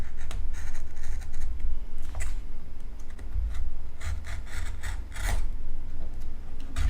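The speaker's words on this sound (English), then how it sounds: "How hard do you got to cut with an X-Acto knife?" An X-Acto craft knife cuts through material in short repeated scratchy strokes, close and fairly loud, over a low steady background hum.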